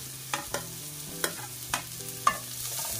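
Beans, carrots and cabbage fry in a pan for egg fried rice, with a spatula scraping and clicking against the metal in several sharp strokes over a low, steady sizzle.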